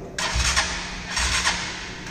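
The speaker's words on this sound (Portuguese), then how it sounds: "o motor 340 cilindrados é pesado para ligar na partida" A 340cc motorcycle engine grinding on its electric starter with a weak battery, two or three labored cranking bursts that never catch, close and fairly loud with no talk.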